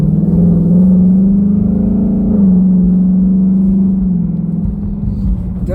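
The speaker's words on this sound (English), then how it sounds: "we can already hear that the car is a lot louder" A 2019 Ford Mustang California Special GT engine in track mode drones with a loud, deep rumble that swells slightly as it revs under 3,000 RPM, then holds and eases off, close up inside the car.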